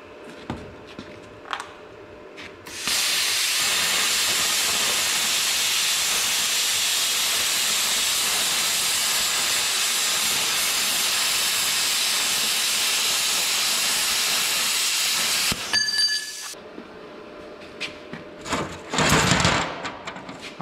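A cheap pilot-arc plasma cutter cuts through rusty metal with a loud, steady roaring hiss lasting about twelve seconds, ending in a brief crackle, then a short sharp burst of hiss after scattered clicks and handling noise.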